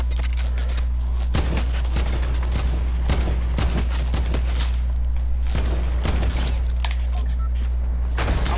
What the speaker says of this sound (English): I have a whole suppressed assault rifle.